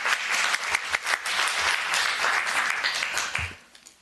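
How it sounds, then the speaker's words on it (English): Round of applause from the audience at a Board of Education regular meeting, dense and steady clapping for about three and a half seconds, then thinning out. "big round of applause"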